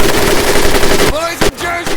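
Sustained automatic machine gun fire in the World War II shooter Medal of Honor Pacific Assault, a dense rapid rattle for about a second before it cuts off, leaving a brief gap with a faint clatter.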